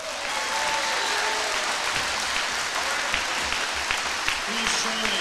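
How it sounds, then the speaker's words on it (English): A crowd at a high school athletics hall of fame ceremony during a basketball game claps steadily and warmly throughout, a dense wash of applause with a few faint voices beneath it. "giving the Pontiac Township High School Athletics Hall of Fame Class of 2024 another round of applause"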